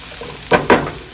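Two quick stirs of garam masala in a hot frying pan, each a short scraping swish over a steady low sizzle, close and clear with no talking.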